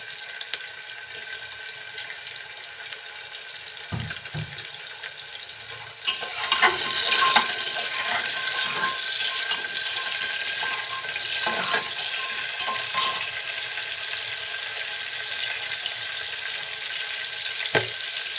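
Shrimp go into a pan with raw onion and green chili, a soft sizzle that turns louder and busier as they are stirred, with occasional clatters against the pan.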